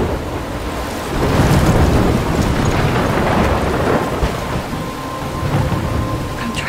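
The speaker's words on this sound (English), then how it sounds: "I'm trapped in a storm." Thunderstorm in the video game Life Is Strange: heavy rain pours continuously with rumbling thunder swelling loudly in the middle, wind underneath, no voices.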